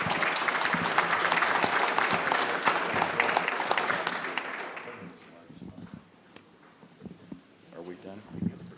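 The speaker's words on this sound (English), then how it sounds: "let's give a big round of applause for our panelists" Audience applause for the panelists at a conference, a loud dense clapping wash for about five seconds that then quickly thins into a few scattered claps and faint murmuring.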